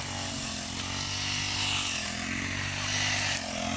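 A motorized grass trimmer's engine drones continuously as it cuts grass during a community brush-clearing activity at a school's grounds. The whine is loud and steady, rising slightly in places, with no clear talk.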